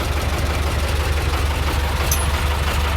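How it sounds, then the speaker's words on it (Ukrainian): A farm tractor engine runs steadily at a constant low throttle during hay work, a close, continuous low rumble with a faint knocking pulse and no talk. "я їду трактором"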